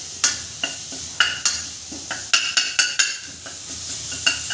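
Ground spice paste frying in ghee for stuffed chilli yellow kadhi, a soft steady sizzle broken by a series of sharp scraping stir strokes of a spoon against the pan, close up and with no talking.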